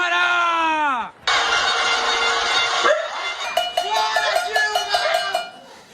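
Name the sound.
pot-banging protest (panelazo) in São Paulo, Brazil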